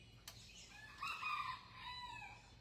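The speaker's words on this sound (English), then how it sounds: "Is that a chicken? Yeah, more specifically, it's a little baby rooster with a big personality complex." A young rooster lets out its very first crow, a strained, wavering call held for about two seconds, fairly close and moderately loud over a quiet background.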